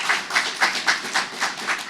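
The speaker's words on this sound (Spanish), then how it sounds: "Un aplauso." Steady rhythmic clapping in a church service, about seven even claps spaced roughly a quarter second apart, moderately loud and fairly close, with no voices over it.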